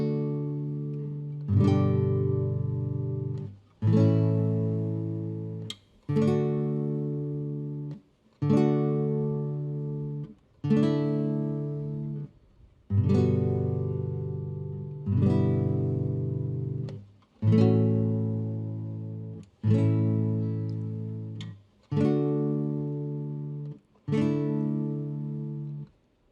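Strummed guitar chords ring out one at a time, about a dozen evenly spaced strums roughly every two seconds, each sustaining and decaying before the next, clear and close with no talking.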